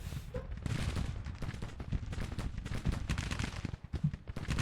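Dense battlefield gunfire from Grand Tactician: The Civil War fills the whole stretch, loud and continuous with sharp overlapping reports and low booms, fitting artillery firing amid a constant din.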